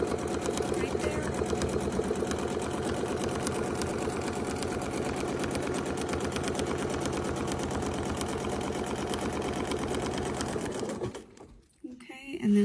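A sewing machine stitches a quilt border guided by a Westalee continuous border loop template, running at a steady, close, rapid whir for about eleven seconds before stopping abruptly.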